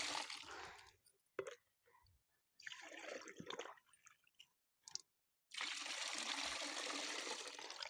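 Water is poured into a mixture of neem leaves and peels soaked for three days, close liquid pouring and trickling in several bursts separated by short silences, with a longer steady pour at the end.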